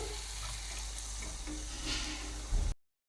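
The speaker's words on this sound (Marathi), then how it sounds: "डाळ चांगली शिजली पाहिजे म्हणून आपण डाळ पहिले घालू" Mung dal frying in a pan while it is stirred, a steady sizzle with soft scraping under it that cuts off abruptly near the end.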